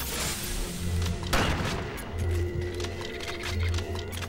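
Gunfire in the video game Alien Swarm, a dense stream of rapid shots with a sharp louder crack near the middle, continuing steadily throughout.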